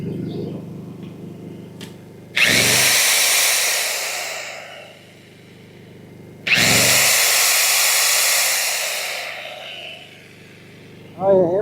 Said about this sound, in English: the drill was so noisy